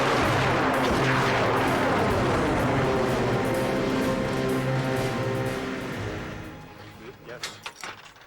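Explosions set off on an IMAX film shoot rumble loud and sustained with low booming and crackling, heard from a distance and fading away toward the end.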